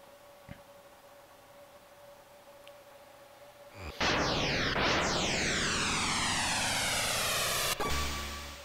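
The Silvird time machine takes off in the PlayStation game Chrono Trigger: a loud sweeping whoosh bursts in, a rising roar with falling swept tones that holds for several seconds before cutting off abruptly, preceded by quiet ambience.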